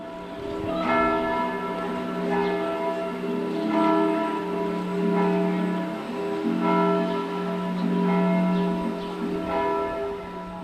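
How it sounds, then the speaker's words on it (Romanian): Large, very special church bells of the Black Church clock tower ring out, a series of resonant, overlapping strikes roughly every one to two seconds, with long humming decay, heard from a distance and alone. "Ceasul Bisericii Negre se aude de departe. Acolo sunt niște clopote foarte mari, cu totul și cu totul speciale."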